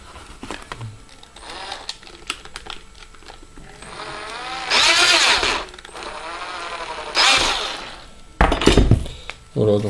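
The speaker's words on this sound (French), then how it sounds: "Donc je viens visser." Cordless screwdriver driving screws into a pigeon flap form during assembly, heard as three loud whirring bursts of a few seconds each, separated by quieter handling clatter, close up.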